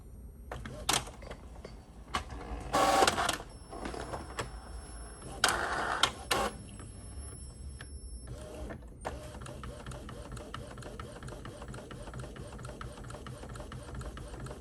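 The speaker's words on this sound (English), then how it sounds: "And now print." A sublimation printer runs a t-shirt transfer print, with a few loud mechanical clunks and feed bursts early on before settling into a steady, moderate whir of the print carriage.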